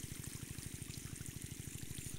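Water gushes steadily from a hose pipe irrigating a wheat field, a continuous close rushing flow with a pulsing, gurgling rhythm and no talk.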